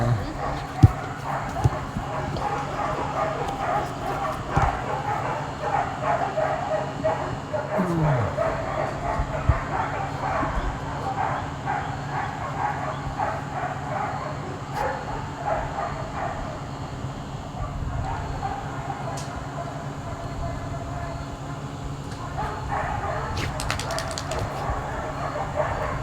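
Many dogs bark and yip at an animal shelter, a dense, continuous chorus of overlapping barks from several kennels that runs the whole time under people's voices.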